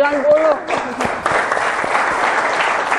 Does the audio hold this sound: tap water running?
no